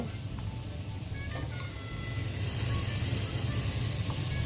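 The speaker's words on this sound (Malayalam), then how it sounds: "ഇപ്പോൾ ഏകദേശം വെളുത്തുള്ളിയും ഇഞ്ചിയും ഏകദേശം മൂത്ത് വരുന്നുണ്ട്" Garlic and ginger fry in a hot pan for chicken biryani, giving a steady, loud sizzling hiss that rises a little in the second half, close by with no talking.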